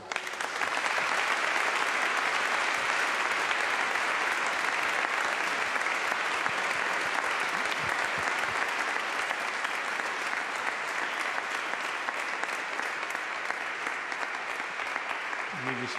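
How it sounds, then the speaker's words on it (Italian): A large congregation applauds inside a basilica during a feast-day Mass, sustained dense clapping that stays steady and full for the whole stretch with a reverberant wash. "ti ringraziamo di cuore per la tua presenza e ti salutiamo con questo applauso."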